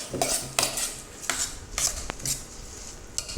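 Prawn roll filling being mixed in a bowl with a utensil, a few close scrapes and clinks against the bowl at irregular intervals, no talking.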